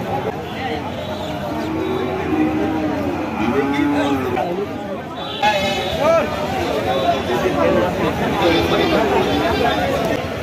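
Cattle moo repeatedly at a livestock market in Chougachha, Jessore, where local-breed bulls and calves are for sale, the calls loud and near over steady crowd chatter and people talking.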